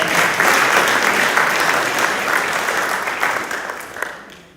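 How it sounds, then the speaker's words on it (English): Sustained applause from an audience at a school sports awards ceremony honouring a motocross winner, dense and steady throughout before tapering off at the end. "Let's give Gina a clap."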